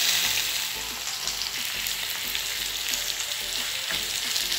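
Doner meat frying in a pan, a dense, even sizzle that holds steady throughout with soft stirring beneath it, close and fairly loud, no talking.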